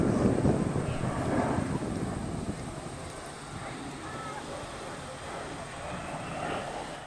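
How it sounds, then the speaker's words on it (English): A stunt airplane at an air show drones overhead under a cloudy sky, a broad engine roar mixed with wind rumble that slowly fades as the plane moves away, with a voice murmuring faintly. "I just lost the plane, and I'm waiting for it to exit the other area, and there it is."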